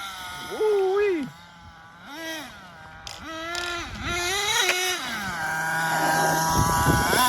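A nitro RC monster truck, an XTM Mammoth, runs its small engine in repeated high-pitched revving bursts that drop back to a buzzing idle, with voices talking over it.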